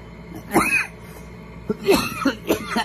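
Several harsh coughs in short bursts, one near the start and a cluster of three toward the end, close and fairly loud in a quiet room.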